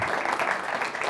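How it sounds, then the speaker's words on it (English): Audience applause from a crowd at a business talk on sustainability, steady and dense clapping filling the full moment without pause, fairly distant and even in loudness. "Jorgbauer, give him a round of applause."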